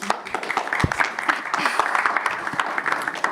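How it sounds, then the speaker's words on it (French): Audience applause at a combat sports press conference, a dense patter of many hands clapping at moderate volume with some crowd noise mixed in. "Vraiment, les gars, on applaudit pour Fabakary, s'il vous plaît."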